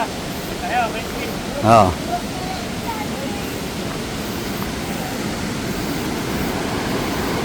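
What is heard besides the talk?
Maranum Falls waterfall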